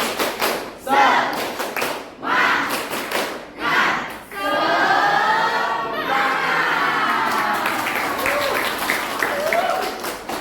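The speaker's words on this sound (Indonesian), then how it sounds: "kita bertepuk semangat sekali ya. Tepuk semangat." Indonesian schoolchildren perform a rhythmic group clap, several loud unison bursts separated by pauses, then voices rise into a lively chant and cheer over continued clapping.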